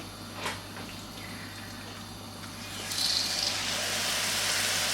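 Boneless chicken dropped into a small amount of hot oil, starting with a few faint clatters and then growing into a quiet, steady sizzle that builds after a few seconds.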